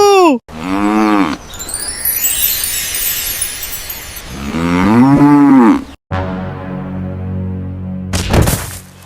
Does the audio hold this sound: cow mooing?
yes